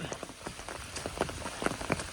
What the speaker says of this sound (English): This is actually like the 3rd time that I've been rained on today.